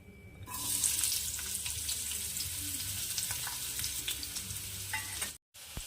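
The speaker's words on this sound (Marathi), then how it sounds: "यामध्येच आपण लसण आणि अद्रक ॲड करत आहे त्याचं पण कच्चेपणा निघून जाते भाजल्याने" Tomato, long-cut onion, ginger and garlic frying in oil, a continuous close hiss with scattered crackles and a few light stirring scrapes, broken by a brief dropout near the end, no talking.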